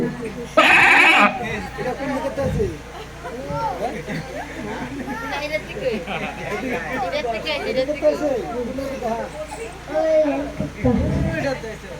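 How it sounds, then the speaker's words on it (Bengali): A goat gives a loud, close bleat near the start, then people keep chatting over quieter background bleating from the livestock in a banana orchard. "একটা ছাগল চিনছিস নি"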